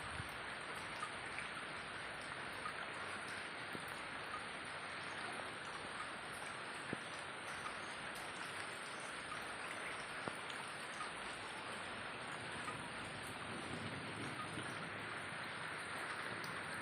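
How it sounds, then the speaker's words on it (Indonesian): Heavy rain pours steadily during outdoor electrical installation work, a dense, constant hiss with scattered drops hitting surfaces nearby, no voices, unbroken for the whole stretch. "hujan semakin deras"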